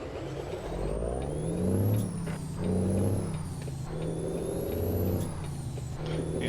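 A heavy truck hauling a trailer drives on with a steady engine drone and a high whine, the load swelling briefly as it shifts and grinds gears.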